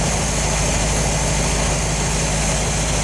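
1972 Corvette Stingray V8 idling at around 800 rpm, a steady loud low rumble close by with an even throb and no talk.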